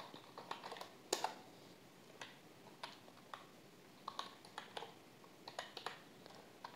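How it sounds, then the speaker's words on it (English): Steady typing on a computer keyboard, quick irregular key clicks close by in a quiet room, with no talking. "Here I am typing"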